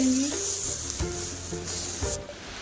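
Cinnamon, cardamom and other whole spices sizzle in a hot kadai, a bright frying hiss with a few stirring knocks against the pan, close and steady.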